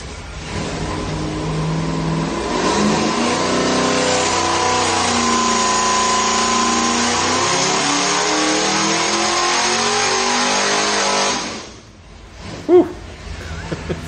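A Ford Cobra Venom's 575-horsepower engine revs hard and sustained for about ten seconds, a loud close roar with rising and falling pitch, then drops off abruptly followed by a couple of brief clunks.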